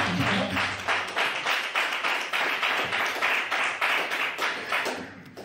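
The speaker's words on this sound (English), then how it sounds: "Come on, clap, clap, y'all." Church audience clapping along in a steady, even beat, a dense crowd of hands striking in time throughout, loud and close with no pause.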